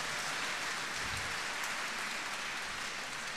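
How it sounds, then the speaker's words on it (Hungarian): Audience applause following a bagpipe solo of Highland Cathedral, a dense even patter of many hands clapping, steady and moderately distant throughout with no voices. "Köszönöm szépen a tapsot."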